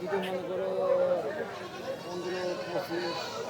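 Goats bleat repeatedly at a busy cattle and goat market in Ashulia, their calls rising over steady crowd chatter and people talking nearby.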